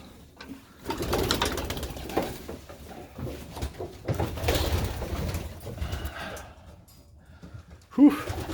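Pigeons coo softly in a loft on a cold night, with low, murmuring calls recurring over a quiet background and one sharper close sound near the end.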